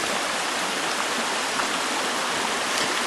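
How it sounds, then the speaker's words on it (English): A backcountry stream flows steadily close by, making a constant, full rushing hiss of moving water with no breaks and no voices. "this is my stream, this is my water source"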